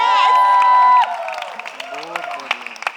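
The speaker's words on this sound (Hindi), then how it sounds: "उसके लिए जोरदार तालियां हो जाए" A studio crowd at the grand launch of a Hindi couples reality show claps and cheers loudly after a held musical tone cuts off, with scattered whoops and sharp individual claps over the lively applause.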